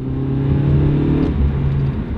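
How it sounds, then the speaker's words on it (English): An old Honda car accelerates on a test drive, a steady, close engine drone with a low rumble and constant tonal whine that builds slightly, with no talking. "So we're taking for a little ride here, and let's see how it accelerates."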